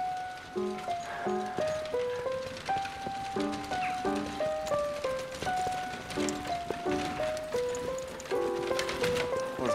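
Rhythmic clip-clop of horse hooves on hard ground, steady and fairly close, with a light rain-like patter and faint ambient noise in the background.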